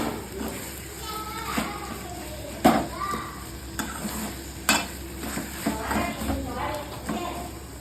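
Karuvadu (dried fish) masala frying in a pan, with a continuous soft sizzle and intermittent scraping stirs while a person talks over it.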